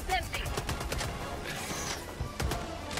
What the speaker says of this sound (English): I forgot how much kickback this machine gun gives.